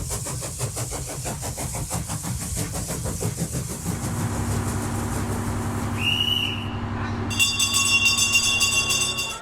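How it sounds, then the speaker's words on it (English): A restored vintage rail motor train with a steady mid-pitched engine drone and rumble, then a sharp whistle blast followed by a sustained high ringing tone near the end, with no talking. "I board the restored rail motor train"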